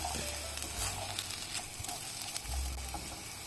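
Scrambled egg is mixed in a frying pan with a steady sizzle and light scraping stirs, close and continuous with no talking.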